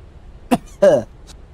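A person coughs twice in a short, sharp burst and then a harsher, longer rasp, up close, followed by a faint breath.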